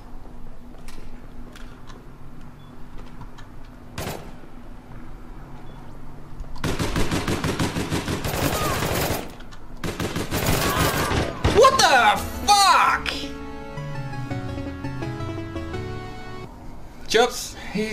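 Bursts of rapid automatic gunfire in APB Reloaded, loud and close, coming in long rattling strings with short gaps, while players talk over and between the shots.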